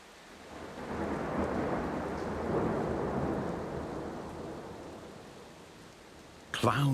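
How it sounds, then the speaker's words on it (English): A thunderstorm rolls in with steady rain hissing and a broad rumble of thunder swelling and fading, fairly soft overall, ending in a sudden sharper crack. "Clouds bearing rain finally arrive."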